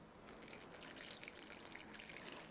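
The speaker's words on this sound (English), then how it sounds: "You just add water." Water being poured into cornstarch to make oobleck, a steady faint gushing wash with no voices over it.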